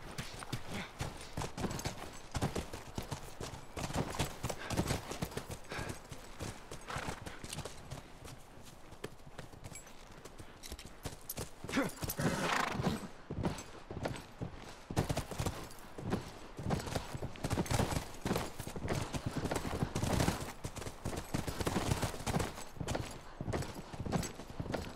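Horse hooves clip-clopping steadily in The Last of Us video game, a continuous rhythmic patter of many hoofbeats at close range, loud throughout with no talk over it.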